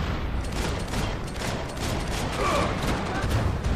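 Dense, overlapping gunfire in the shooter game Max Payne 3, a rapid crackling fusillade of shots and mechanical clatter running throughout at steady loudness, with a voice speaking partway through.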